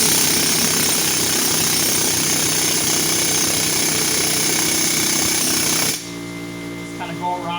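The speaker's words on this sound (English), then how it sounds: "I'm gonna just air hammer it out here for you guys." An air hammer pounds a heated rear wheel bearing bracket on a 2009 Mazda CX-9, a loud, rapid, continuous jackhammer-like rattle that stops abruptly near the end, leaving quieter workshop sounds.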